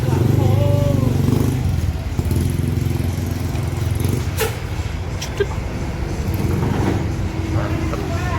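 A coach bus on a Jakarta-area route pulls away, its diesel engine droning steadily and loudly nearby, with a brief hiss and clank partway through and people talking over the rumble.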